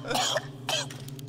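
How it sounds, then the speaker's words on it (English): A man coughs twice, a harsh burst then a second shorter one, close by over a steady low electrical hum. "I'm just looking at him coughing and shit."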